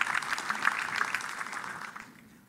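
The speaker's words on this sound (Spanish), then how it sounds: "Un fuerte aplauso para él también, por favor." An audience at a business innovation panel applauds a guest, a brief burst of many hands clapping that starts strong and tapers off toward the end, fairly quiet and with no voices over it.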